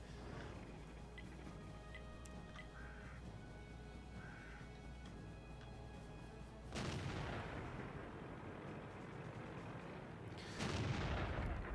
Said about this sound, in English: 2 shots must have hit him from Drydor over on in the middle